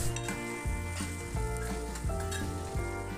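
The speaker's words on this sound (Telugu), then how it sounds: "కొత్తిమీర కూడా వేసుకొని కలుపుకోవాలి." Coriander and curry leaves get stirred into an egg curry sizzling in a pan, with a steady close frying hiss and rhythmic scraping stirs about every two-thirds of a second, fairly quiet and without talk.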